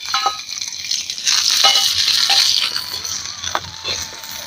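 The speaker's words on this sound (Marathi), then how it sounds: "आता हे तव्यात कांदा टाकून घेते लगेच" Onion fries on a griddle pan for a drumstick curry, a close, loud crackling sizzle with spatula scraping and stirring, swelling in the middle then easing off.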